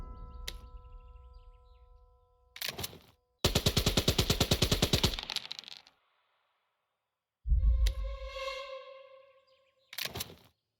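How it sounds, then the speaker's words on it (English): A heavy machine gun fires in a World War II Kursk strategy game, with one loud, rapid burst of evenly spaced shots standing out among separate single reports and tonal, chirping game sound effects. "Southern heavy machine gun keeps taking its toll on the advance by taking out another fire team."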